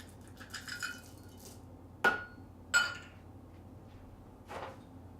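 Stevia-sweetened chocolate chips are spooned into thick brownie batter, giving a few sharp spoon clinks and taps against the bowl spread over several seconds, with soft scraping between them.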